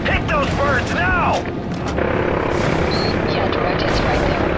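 Game helicopters from Call of Duty: Modern Warfare 3 thunder continuously amid battle booms and weapon fire, loud and close, while a voice calls out over the first second or so.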